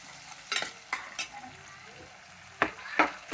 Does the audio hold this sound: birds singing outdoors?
no